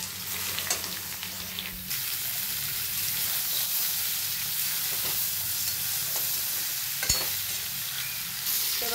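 Soybean chunks with a little salt fry in a pan, a steady close sizzle with occasional scrapes and knocks of a stirring spoon, no voices.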